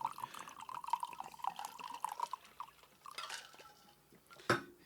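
Bottled water poured through a small pour restrictor into a glass gives a thin, wavering gurgling trickle with scattered drips, close and fairly quiet, ending in a sharp glassy clink.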